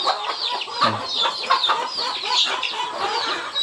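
Native chickens and their chicks, looking dull in cold, rainy morning weather, cluck and peep continuously at close range in a busy, overlapping chorus.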